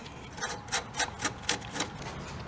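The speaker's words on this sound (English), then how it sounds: "Now we're going to insert the top control arm bolt and just hand tighten it for now" The top control arm bolt is turned by hand during a coilover install on a Mazda Miata NA/NB, making a steady series of close, rhythmic rasping scrapes as the threads turn, about two per second.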